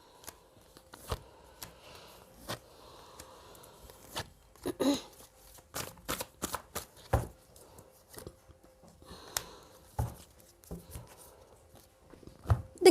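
Tarot cards are shuffled by hand for a reading, making scattered soft riffles and sharp card snaps in irregular bursts, close and fairly quiet.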